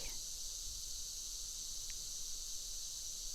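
Cicadas in Provence keep up a continuous high, even buzz that holds steady throughout, with a soft low background rumble and no voices.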